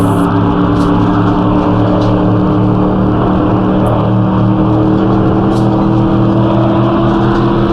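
A Tatra race car in Assetto Corsa held at full throttle during an endurance race, its engine drone loud, steady and close, with a constant layered hum that carries on without a break.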